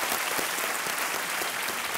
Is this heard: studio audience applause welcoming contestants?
yes